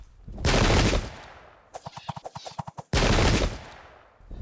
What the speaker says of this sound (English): We managed to hurt them with gunfire here.